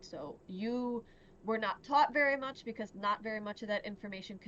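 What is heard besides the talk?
None of the usual background noises is heard.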